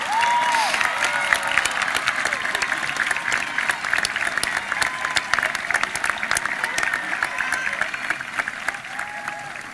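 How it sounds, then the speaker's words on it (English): Graduates at the Rogers High School Class of 2021 ceremony applaud their families, a steady, dense wash of crowd clapping with scattered cheers and whoops throughout, filling a large space. "offer a round of applause in appreciation for all their love and"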